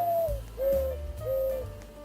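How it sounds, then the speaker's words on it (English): A Rivian's lock and unlock chime in the video game Greenville sounds like an owl: three soft, close hoots, each a short falling tone followed by a steady one, evenly spaced and clear. "The Rivian has an interesting lock and unlock sound that sounds like an owl"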